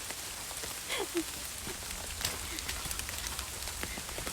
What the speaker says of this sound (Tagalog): Ito ang ulan.